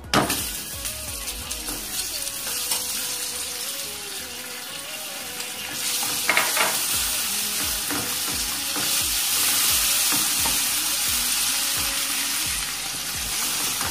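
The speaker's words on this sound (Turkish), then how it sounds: "Bu aşamada tereyağımızı ekliyoruz." Butter goes into melting sugar in a pan for a trileçe cream, giving a steady, close sizzle with stirring scrapes and clinks throughout.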